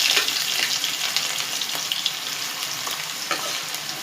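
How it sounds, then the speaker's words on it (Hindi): Karela frying in hot oil until brown makes a dense, loud, continuous crackling sizzle with sharp spatter pops, close up and uninterrupted throughout. "इसके ब्राउन होने तक, अच्छा सा कलर आने तक हम इसको फ्राई कर लेंगे"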